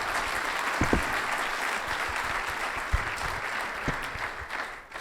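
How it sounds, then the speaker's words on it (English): Steady applause from a group at a retail franchising talk fills about five seconds, with a few sharper nearby claps and thumps standing out before it fades at the end. "first I want to get a big round of applause for Brian for helping us out today"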